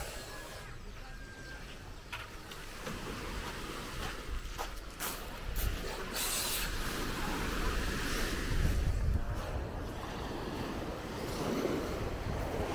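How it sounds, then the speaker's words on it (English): Surf rolls steadily onto a black sand beach at Amed, Bali, a continuous wash of waves mixed with wind buffeting the microphone, fairly close and alone without talk. "This is the beach."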